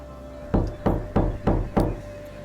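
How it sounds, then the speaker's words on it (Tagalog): Five firm, evenly spaced knocks on a hard wooden bed, close and distinct against a quiet background. "biglang narinig ko ang katok mula sa kama ni kuya"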